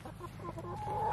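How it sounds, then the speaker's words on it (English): A chicken clucks softly a few times in quick succession, faint and close, with no one speaking. "Yeah, it's a chicken."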